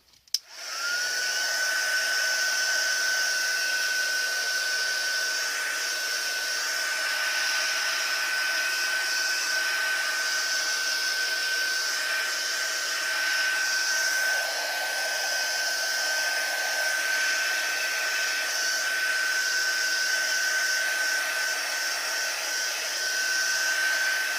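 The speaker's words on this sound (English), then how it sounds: "let's have another blast with our heat tool" A crafting heat tool blows hot air over faux leather and Mod Podge in a steady, close airy roar with a high whine, switching on abruptly and running continuously.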